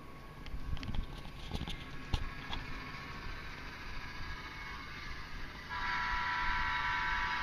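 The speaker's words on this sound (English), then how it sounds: "I'm just about ready to run out of memory, so I'll try to get the train back around." An HO scale model train runs on a tabletop layout, a steady mechanical rumble with faint clicks, growing louder and brighter near the end as it comes back around from a mountain tunnel.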